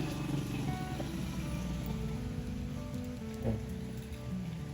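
Heavy rain pours down in a steady, dense hiss of drops striking surfaces nearby, loud and unbroken, with no speech heard.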